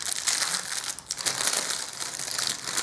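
Packaging for a Zoweetek i28 wireless Bluetooth keyboard crinkling and crushing during unboxing, a loud, close, continuous rustle of plastic and paper with no talking.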